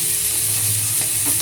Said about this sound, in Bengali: মশলাটা সুন্দর করে একটু আস্তে আস্তে কষবেন, কম জালে লাল হবে পুরো মশলাটা